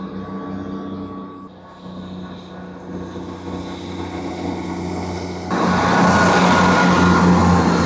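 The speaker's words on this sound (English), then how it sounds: "There is a train due to Leeds in the next couple of minutes" A train pulls into a small UK station platform, a low rumble and hum building over several seconds into a loud, close roar of wheels and engine, with no talk.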